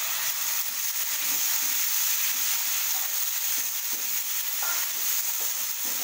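Tomatoes stirred into a frying spring onion and potato sabzi give a steady, close sizzle with a broad hiss throughout and a few soft scrapes of stirring, with no talk.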